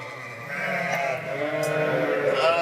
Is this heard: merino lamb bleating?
yes